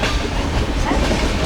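Loud, close interior rumble and clickety-clack of a passenger train leaving Mumbai, filling the moment without voices.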